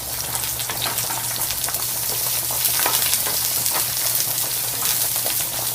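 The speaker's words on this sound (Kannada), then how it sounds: "ಮತ್ತೆ ಒಂದು ಸ್ವಲ್ಪ ಬೆಳ್ಳುಳ್ಳಿ, ಆಮೇಲೆ ನಿಮಗೆ ಖಾರಕ್ಕೆ ಎಷ್ಟು ಬೇಕೋ ಅಷ್ಟು ಹಸಿರು ಮೆಣಸಿನಕಾಯಿ, ಇದನ್ನ ಬಾಡಿಸ್ಕೊಳ್ಳೋಣ" Garlic and green chillies sauté in a pan alongside browning onions for ridge gourd bassaru, a steady loud frying sizzle broken by frequent scraping stirs, close and without talk.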